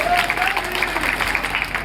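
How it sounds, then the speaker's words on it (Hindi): A crowd at a street rally applauding for the constitution, a brief burst of dense clapping heard against a faint background voice. "एक बार संविधान के लिए जोरदार तालियां"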